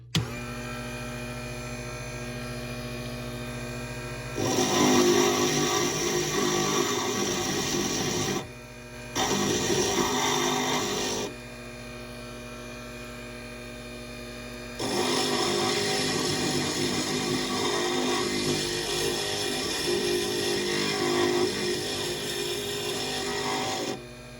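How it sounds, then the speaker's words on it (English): A small grinding bit works stained glass pieces for a panel, whirring loudly in three sustained bursts separated by short pauses. "really small areas that I want to get with that small grinding bit that I have."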